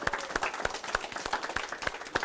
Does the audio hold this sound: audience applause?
yes